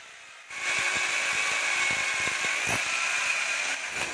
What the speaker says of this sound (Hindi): देख सकते हो यहाँ पर ड्रिल हो रहा है